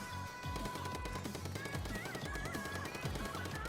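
Splatoon video game weapon firing ink in rapid repeated bursts, a steady rattling stream of shots with game music underneath, loud and continuous.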